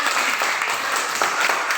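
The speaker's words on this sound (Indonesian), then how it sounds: "Oke, tepuk tangan." Students in a classroom applaud together in a brief, steady round of close, moderately loud clapping with no voices over it.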